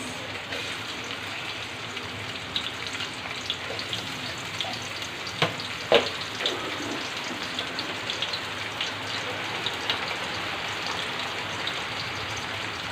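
Onions frying in hot oil for a Bengali rui fish and potato dish give a steady, dense sizzle throughout, with a few brief crackling pops near the middle and no talking.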